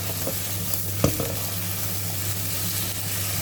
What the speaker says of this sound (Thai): แล้วก็จะใส่ คะน้าลงไปค่ะ มะเขือเทศ แล้วก็ผัดให้เข้ากัน